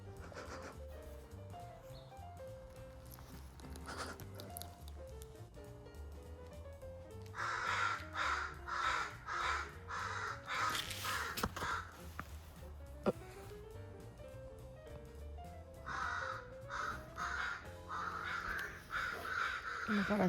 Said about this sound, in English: I think the crows are fighting